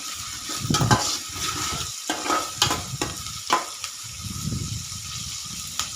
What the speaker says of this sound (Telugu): బాగా కలుపుకోవాలి ఫ్రై అవుతూ ఉంది